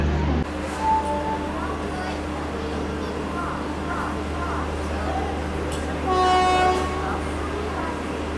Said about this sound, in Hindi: यहाँ प्लेटफॉर्म नंबर 12 पे लगाई जा रही है न्यू दिल्ली दौरा या कहें न्यू दिल्ली अजमेर शताब्दी एक्सप्रेस।